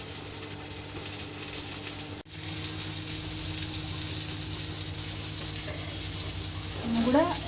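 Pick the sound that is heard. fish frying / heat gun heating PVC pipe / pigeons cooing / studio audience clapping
fish frying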